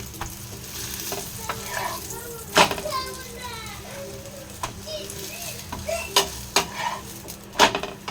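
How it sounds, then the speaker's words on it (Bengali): Torn roti pieces fry and sizzle in a pan as a spatula stirs them, giving a steady crackling hiss broken by sharp metallic scrapes and taps; people talk nearby throughout. "এই দেখো এটা হচ্ছে রুটি ভাজা এটা একটু পরে ক্রিস্পি ক্রিস্পি হয়ে যাবে"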